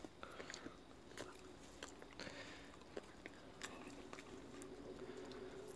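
A Jindo dog chews and eats fresh tomatoes, giving soft wet biting and squishing sounds in small irregular bursts, close and quiet over a faint background hiss.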